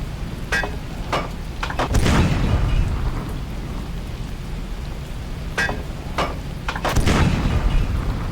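Naval gunfire in the submarine-era Pacific video game Silent Depth 2 Pacific: a handful of deep booming shots spaced apart, each rolling out over a steady low rumble of ship and sea ambience.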